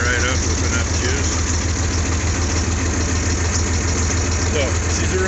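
An engine idles steadily after a cold start, giving an even, continuous drone throughout while someone talks over it.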